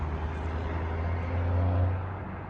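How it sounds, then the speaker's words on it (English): Steady low road traffic rumble recorded outdoors outside a house, a continuous hum of passing cars with a slight swell midway, fairly close and without speech. "so you can hear the traffic in the background as well."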